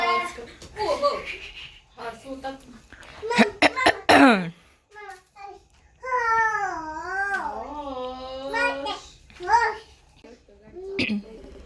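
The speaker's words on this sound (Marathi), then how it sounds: "ignore my खोकला" A few sharp coughs break up close, lively chatter and a child's babble at a family naming ceremony, with voices talking throughout.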